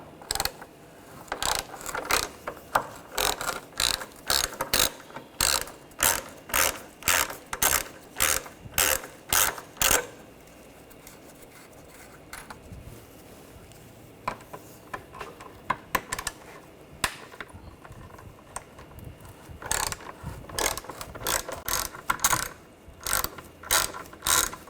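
Ratchet with a T30 socket backing out bumper cover screws on a 2013-2019 Ford Escape, heard as bursts of rapid close clicking, with a quieter pause midway before the clicking resumes.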